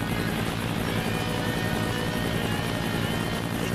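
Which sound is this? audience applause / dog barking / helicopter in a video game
helicopter in a video game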